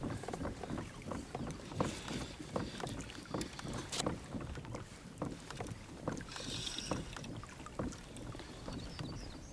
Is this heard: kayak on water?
yes